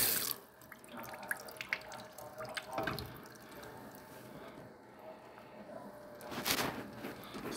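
A kitchen tap runs into the sink to rinse it down after fish is seasoned, with splashing, dripping and a couple of louder gushes of water, moderately quiet and close, without talking.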